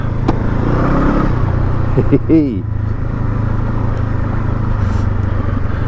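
A Honda CL500 motorcycle riding off road over mud, wet grass and ruts, with a steady loud engine drone throughout and a brief rev near the middle, close to the rider.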